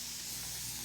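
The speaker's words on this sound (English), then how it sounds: "So I'm going to spray my board eraser." A spray bottle mists a whiteboard eraser in a small craft kit setup, a short quiet hiss of spray lasting under a second with no talking.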